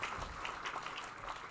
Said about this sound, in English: we're gonna applaud the judges as they head out